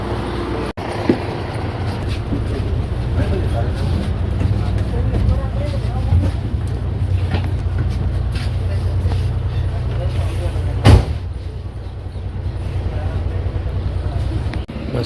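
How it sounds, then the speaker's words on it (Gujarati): A bus pulls up and carries passengers along, its low, steady engine rumble droning near and constant throughout, with faint voices in the background. "તો ફાઇનલી હવે બસ આવી ગઈ છે"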